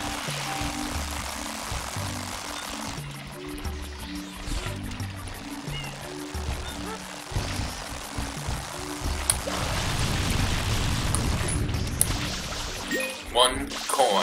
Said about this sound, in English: Fill up the jug.